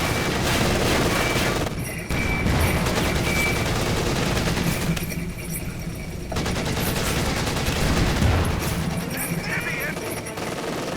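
Tank-mounted machine gun fire in Company of Heroes 2, dense continuous bursts with brief gaps, mixed with battlefield booms and speech over the top.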